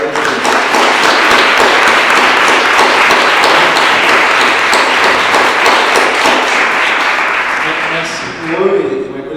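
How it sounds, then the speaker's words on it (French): Loud, dense applause from the audience at a colloquium, many hands clapping in a continuous roar close by, holding strong before tapering off near the end as a few stray sounds remain. "je pense qu'on peut les applaudir pour leur travail"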